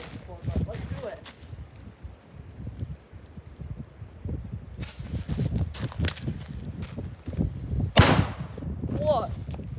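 An airsoft EG67 frag grenade goes off in shallow water with a single loud, sharp burst near the end, heard after outdoor rustling and movement.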